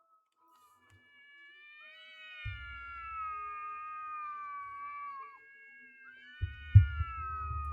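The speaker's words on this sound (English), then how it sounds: "That is the sound of 2 cats screaming at each other." Two cats screaming and yowling at each other, a long wavering high-pitched caterwaul rising and falling for several seconds, close and loud, with low thumps and scuffling as a second yowl begins near the end.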